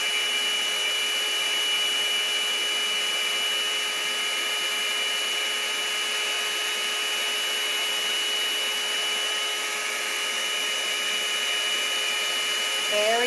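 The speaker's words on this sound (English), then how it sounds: "Very gently blow the white over the top of your other colours." A continuous, even airflow hiss with a faint whine from a blower, gently pushing white paint across a poured turquoise and Payne's grey placemat, steady and uninterrupted.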